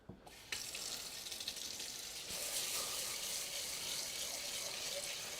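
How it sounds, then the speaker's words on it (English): Basmati rice gets rinsed under a running tap, a steady close rush of water that starts abruptly and keeps flowing without a break. "Give this rice a little rinse here."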